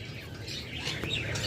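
A pet bird with a parblue double factor mutation chirps and squawks in short, bright calls, loudest near the end, over a steady low background hum.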